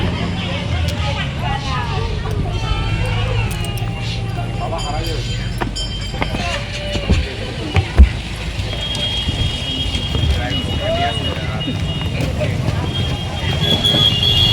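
A train runs past near the India–Bangladesh border at Hili. Its steady rumble and clatter carry on throughout, with a few sharper knocks around the middle, under wind, road noise and occasional speech.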